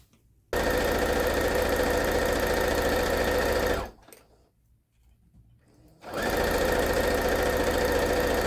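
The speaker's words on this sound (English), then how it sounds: "Let's go ahead and get this sewn down." A sewing machine hems a flour sack tea towel in two loud, close, steady runs of stitching separated by a short pause.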